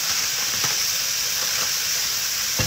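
Ground meat for a shepherd's pie browns in a pan with a steady, even hiss of sizzling, a few soft clicks and scrapes of breaking it up, close and without speech.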